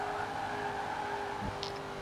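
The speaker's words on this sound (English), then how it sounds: "now my engine is struggling to go above 120" Muscle car engine straining at high speed in Forza Horizon 4, a steady sustained drone with a brief tire squeal near the end, no voices.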